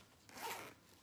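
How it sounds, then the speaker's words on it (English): A purse's center zip compartment is zipped in a single quick pull, a brief close rasp lasting under a second against quiet. "Okay, then there's the center zip compartment."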